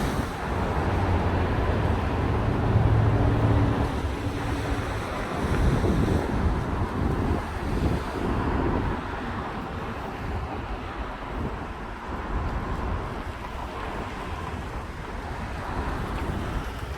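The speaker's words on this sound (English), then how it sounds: "The Pacific Ocean" Pacific Ocean surf at Depoe Bay on the Oregon coast, with steady wind buffeting the microphone and a continuous broadband wash of waves and spray lasting throughout, and no voices.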